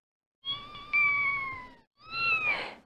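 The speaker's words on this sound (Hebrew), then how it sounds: "זה היה קול של חתלתול." Kitten meowing in two clear calls, the first long and rising in pitch midway, the second shorter and rougher after a brief pause, near and alone.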